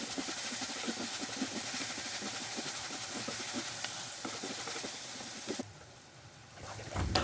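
Onions with green chillies and salt sizzling and hissing steadily in a hot pan for Kerala-style chicken curry, a dense, continuous frying sizzle that dips briefly near the end before picking back up.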